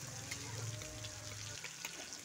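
Tomatoes frying in oil in a pan for a Bengali vegetarian cabbage dish give off a soft, steady sizzle that stays faint and even throughout.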